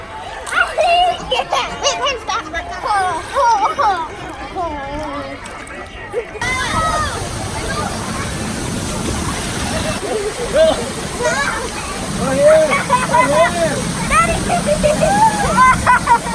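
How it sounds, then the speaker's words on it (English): A water park inside a campground, with splashing water and a waterfall-like rush alongside children's play sounds, while people talk over it throughout. "The water park inside the campground."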